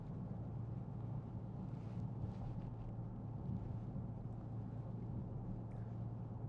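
Airplane engine roar reduced by noise-cancelling headphones to a steady, muffled low hum with a faint airy hiss, even and unbroken throughout, no voices.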